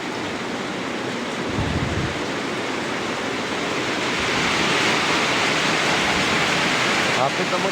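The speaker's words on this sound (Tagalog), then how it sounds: "Ayan mga tolo, medyo malakas ang ulan." Dense, steady broadband hiss of heavy rain pouring down over a fishpond, loud and continuous, with a brief thump early on.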